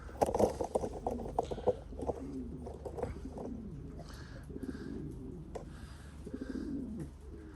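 Damascene pigeons at a bird sanctuary in Berlin, Germany, coo softly in repeated low throaty calls, with wing flutters and a few brief taps close by and no talking.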